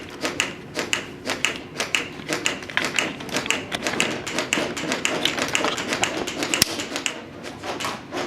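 Rapid, fairly regular clicks from a CPR training manikin under chest compressions during a workshop, sharp taps repeating about twice per second, close and clear over a soft room background.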